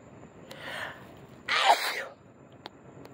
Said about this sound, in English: I get these sneeze attacks sometimes from my allergies.